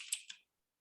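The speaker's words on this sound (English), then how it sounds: "I'll type this, I'll make this say wall" Brief burst of computer-keyboard typing, a few quick clicks close up and quiet, ending in silence.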